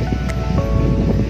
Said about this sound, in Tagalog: ang sarap ng hangin dito